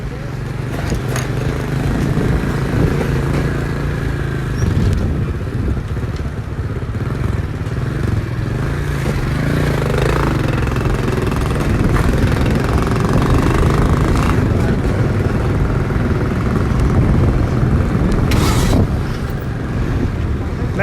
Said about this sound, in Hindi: सिर्फ आप देखते रहिए कब से बाइक चल रही है।